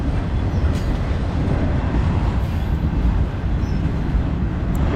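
BNSF auto rack freight train rolling past a crossing while slowing, a loud, steady, close rumble of wheels and cars that holds without a break throughout.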